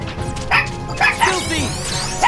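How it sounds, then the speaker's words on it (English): A dog barks and yips nearby during a home recording of Kingdom Hearts Re:Chain of Memories gameplay, a few sharp barks with whiny yelps mixed over game sounds and some voice. "Sorry about the barking."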